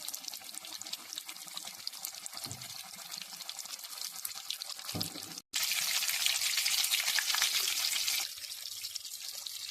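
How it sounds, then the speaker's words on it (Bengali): Chicken kabiraji fries in hot white oil, a dense continuous sizzle close by that drops out briefly, then surges louder before easing back, with occasional low utensil knocks. "গরম তেলেতে এবার ভেজে নেব"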